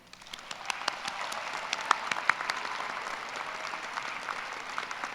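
Applause for staff and helpers at a college graduation ceremony, a broad wash of many hands clapping that swells after the first second and holds steady, moderately distant in a large hall.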